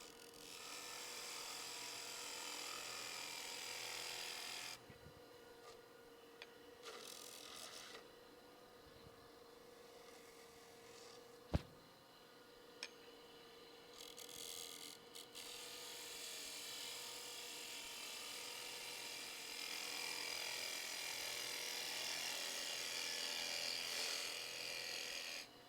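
A turning tool cuts a classical wood pottery vessel on a lathe, giving a steady rough shearing hiss with a droning motor hum beneath, pausing briefly midway with a sharp knock before the cut resumes.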